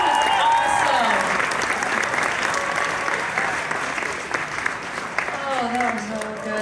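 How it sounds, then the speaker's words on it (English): An audience at a launch expo applauds its speakers with sustained, dense clapping that tapers slightly midway, while voices cheer and talk over it. "One more round of applause for our speakers tonight."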